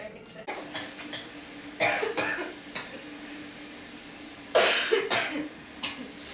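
A person coughs in a home at night, a sick woman in bed under a mosquito net; two clusters of loud, close coughs around quiet background with faint room noise.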